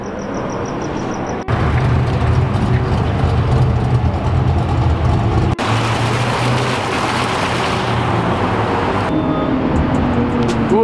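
Continuous loud roar of passing cars and supercar engines on a downtown Los Angeles street, a dense traffic rumble with no clear single exhaust note standing out.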